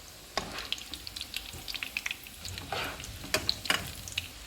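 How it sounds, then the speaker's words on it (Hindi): Beef resha kababs frying in hot oil, turned to brown on both sides, giving a soft, crackly sizzle with scattered pops and spatters, quiet and close, with no voices. "इनको हम दोनों साइडों से गोल्डन ब्राउन फ्राई करेंगे।"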